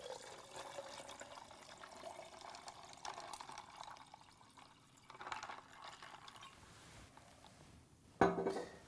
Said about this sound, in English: top this up with our ginger beer. And you can just give this a little stir as well